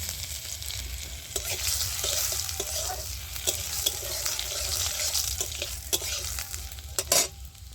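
Crushed ginger sizzles in hot oil with bay leaf, dried red chilli and panch phoron, a dense, close, continuous crackle with frequent pops and a sharper burst of spattering near the end.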